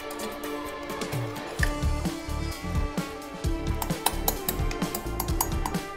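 Basmati rice being stirred in a pot for bread pulao, with a spoon clinking and scraping against the metal in an irregular run of knocks throughout, fairly close.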